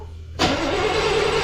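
A 1978 square body truck with a big engine, low on gas after more than ten years off the road, cranks without catching. The noise starts abruptly after a quiet moment and holds steady and loud to the end.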